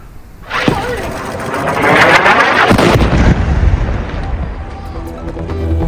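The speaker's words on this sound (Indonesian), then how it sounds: "Sebuah ledakan terjadi di Gaza Tengah" A sudden loud explosion booms in Deir al-Balah, central Gaza, followed by a long rumbling roar and crackling debris that slowly fades, with background noise after.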